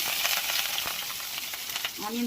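Onions frying in oil seasoned with cumin for an ivy gourd masala, a continuous close sizzle with faint stirring and a short tonal clink near the end.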